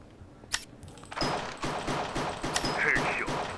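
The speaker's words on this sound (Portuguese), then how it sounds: "Eu tomei muito tiro aqui agora, mas tô vivo ainda" Gunfire from the Minecraft MineStrike mini-game: bursts of rapid shots and impacts, loud and continuous for most of the stretch after a brief quieter opening with a single sharp crack.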